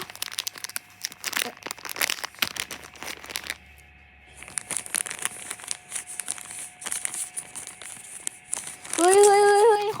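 Plastic packaging crinkles and rustles close up as a package is unwrapped, with busy crackling bursts, a brief quiet pause, then more steady crinkling and a short voice at the end.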